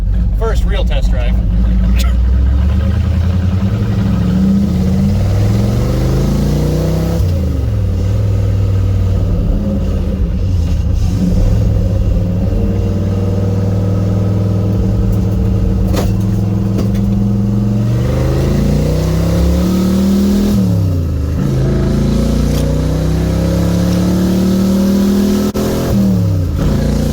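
A 1955 Ford gasser engine rumbles loudly on its first test drive, revving up and dropping back through several shifts as the car moves. A voice talks over the engine.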